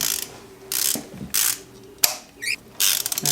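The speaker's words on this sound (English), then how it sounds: "So now we're going to tighten these on." A ratchet tightens spark plugs on a Nissan Rogue in short, loud clicking bursts separated by pauses, with a sharp metallic knock and rapid final clicks as it snugs down.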